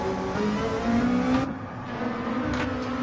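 Race car in Gran Turismo 7 heading out on hard tyres, a continuous loud engine whine shifting pitch as it accelerates, with a gear change and passing swell.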